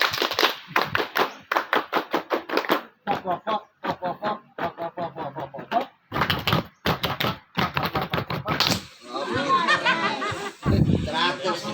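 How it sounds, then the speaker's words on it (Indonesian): Rhythmic group clapping of the Indonesian scout clap (tepuk pramuka), sharp synchronized bursts in patterned sequences, close and loud, alternating with brief pauses and ending in looser, scattered claps. "Ayo, tepuk pramuka."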